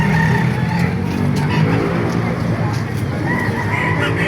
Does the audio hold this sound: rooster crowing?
yes